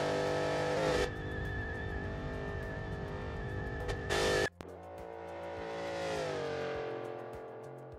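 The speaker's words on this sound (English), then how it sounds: "That is your Dodge Challenger 170 Dodge Demon." A 2023 Dodge Challenger Demon 170 drives in BeamNG Drive, its loud engine holding a steady drone, cutting briefly, then rising again in a long revving climb and settling, heard close and alone.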